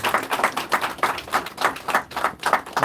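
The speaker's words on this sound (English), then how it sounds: "Surely they deserve a big, big round of applause." Audience clapping after a performance at a Raksha Bandhan event with British Armed Forces, public and emergency services, a steady run of fairly close hand claps in quick uneven bursts with no voices over it.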